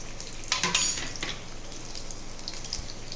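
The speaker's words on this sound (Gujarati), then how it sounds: "તેનો વઘાર કરીશું." Cashew pieces, green grapes and small peeled baby potatoes drop into hot oil for a tempering, giving a brief loud sizzling burst that settles into a steady, quieter frying hiss.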